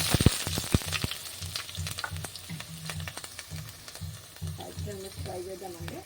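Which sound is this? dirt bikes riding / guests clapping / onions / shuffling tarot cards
onions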